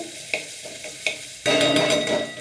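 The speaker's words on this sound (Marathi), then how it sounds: "त्याच्यामध्ये टाकते लसण लसूण टाकल्यावर त्याला छान खालीवर करून घेते" Garlic dropped into a hot pan with cumin seeds and stirred: a couple of light utensil taps, then a sudden loud, steady sizzle that carries on to the end, close and without talk.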